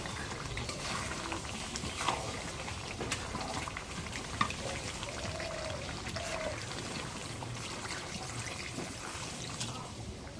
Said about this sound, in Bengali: এখন একটু ঝোলের পানি দিই।